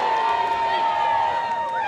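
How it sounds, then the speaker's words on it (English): A crowd at an all-star ultimate frisbee game between PUL and WUL teams booing, a sustained low roar of many voices with a faint whistle-like tone running through it. "You can hear the boos starting to rain down from this crowd"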